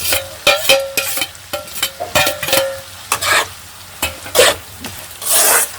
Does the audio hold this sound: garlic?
yes